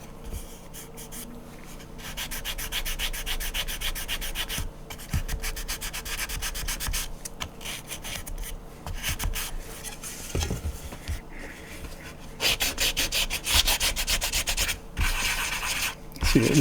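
An old Star Trek plastic model is sanded by hand, giving close, continuous scratchy strokes in an uneven back-and-forth rhythm, with brief pauses between bursts.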